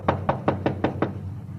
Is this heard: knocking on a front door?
yes